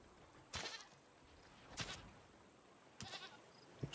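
A goat in the survival game Raft bleats three times in separate short calls, faint and fairly close over a quiet background.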